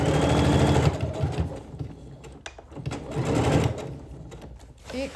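A sewing machine stitches fabric in steady close bursts, pausing briefly between runs, while someone talks over it.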